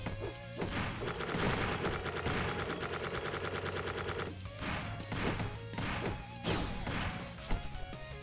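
Bombs explode in the 2D roguelite game Dungreed amid a busy stretch of game combat, with repeated crashing blasts and thuds over a steady buzzing tone and clattering hits, loud and close with no voices.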